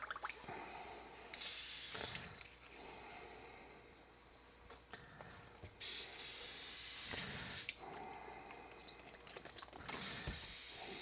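Iwata Micron airbrush being flushed with water for cleaning, giving repeated bursts of close, loud hissing spray separated by short pauses, with faint mechanical clicks between bursts.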